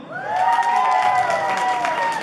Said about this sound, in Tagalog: Pumalakpak ang hindi natulog.